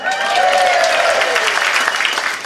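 Audience applause at a late-night comedy show, steady and loud clapping from a full crowd filling the room for a couple of seconds, with cheering voices mixed in.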